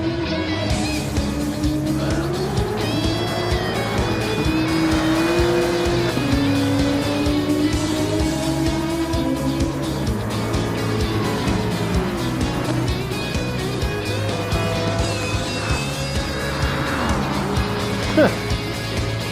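Race cars on a track in a racing video game run continuously, with engine tones rising and falling through gear changes and a brief high whine, and a commentator's voice carries over them.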